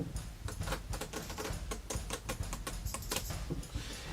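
Rapid, dense patter of card edges flicking and slapping down onto a pile, a continuous crisp riffle lasting several seconds, close up with no voices.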